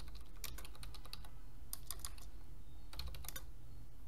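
Fingers tap a computer keyboard in quick bursts of clicks separated by short pauses, entering text into a search box in a quiet room.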